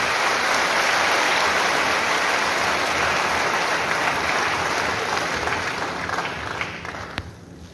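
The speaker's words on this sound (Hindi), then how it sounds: "कृपया तालियों की गड़गड़ाहट जारी रहे।" An audience at a job fair ceremony where appointment letters are handed to young recruits keeps up loud, dense, rain-like applause that fills the hall and thins slightly toward the end.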